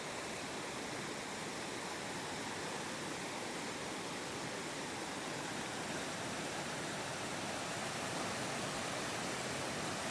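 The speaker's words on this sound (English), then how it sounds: "Look at all them little rapids going down through there." Small river rapids rushing over rocks, a steady broadband roar of flowing water, constant and fairly loud throughout with no voices.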